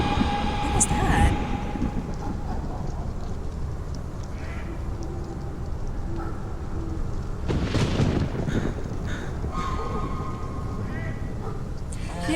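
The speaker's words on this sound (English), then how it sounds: "Why did it start raining and thundering?" Rain and rolling thunder in a night woods scene from the video game Nancy Drew: Midnight in Salem, a constant wash of rainfall with a loud thunder rumble near the middle, while a player talks over it.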